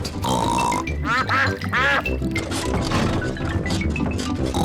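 Cartoon ducks in Peppa Pig quack in loud, close bursts with a short rhythmic burst of calls, over a busy backdrop of other cartoon sounds.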